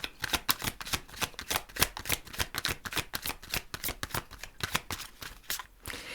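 Tarot cards are shuffled close by in a quick, steady run of crisp riffling slaps that continues for several seconds without talk.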